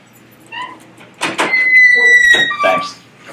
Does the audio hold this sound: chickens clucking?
no